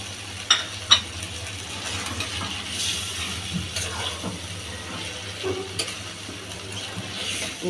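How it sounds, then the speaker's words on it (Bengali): Glass cup fish browning in spices in a pan gives a soft, low sizzle with scattered scraping and stirring clicks, a couple of sharper taps early on, all fairly quiet and close. "এখানে একটু কষিয়ে নিই, তারপর তুলে নিব।"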